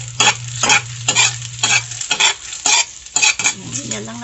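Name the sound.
egg frying and being scrambled in hot oil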